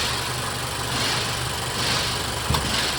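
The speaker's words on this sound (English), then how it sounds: "the AC compressor cycles on and off, so it's going to drop a little bit" A Honda engine idles steadily with a droning hum while the AC compressor cycles on, adding a faint click and a slight change in load near the end. No one speaks.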